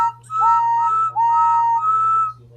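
A steam engine's whistle, sounded as three steady, bright tooting blasts in a row, loud and near, with a low constant hum underneath and no talking.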